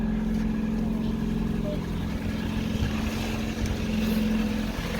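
A Ford Fiesta engine, low on oil and fitted with old HT leads, runs at a steady idle nearby, a continuous even hum with a slight uneven rumble and no talk.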